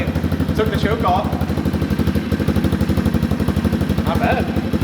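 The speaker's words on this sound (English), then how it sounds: "It's idling really nice, actually." A cheap adult dirt bike engine idles steadily after starting, with an even putter that holds throughout while someone talks over it.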